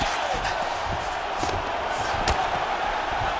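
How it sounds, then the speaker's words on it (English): A crowd in the UFC 5 video game roars as the fighters get back to their feet, a broad, moderately loud swell of cheering with a few sharp thumps mixed in. "huge pop from the crowd as the fighters get back up to their feet"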